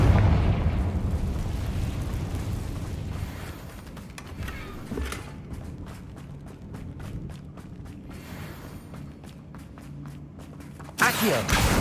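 In Hogwarts Legacy, the Confringo fire spell sets off explosive booms and crackling bursts, loud at first and then fading into rumbling, with a sharp new burst near the end.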